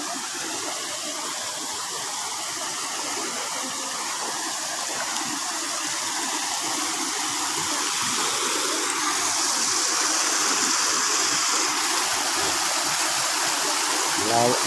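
A river coming down from the mountains in Carigara, Leyte rushes in a steady, loud broadband wash that grows slightly stronger partway through, close by and continuous.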